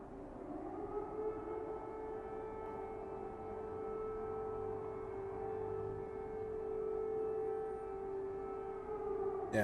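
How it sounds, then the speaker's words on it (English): Air raid siren sounding in Ukraine during the war, a steady sustained wail held throughout, distant and heard alone with no talking. "Yeah, that's a siren. That's an air raid siren."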